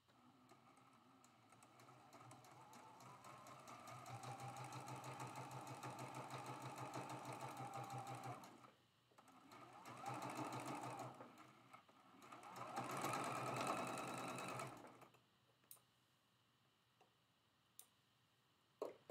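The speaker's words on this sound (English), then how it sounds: "sew this with a 1/4 inch seam allowance" A sewing machine stitching a quarter-inch seam on a pine tree quilt block, running in two long steady bursts with a short pause between, followed by a few faint clicks.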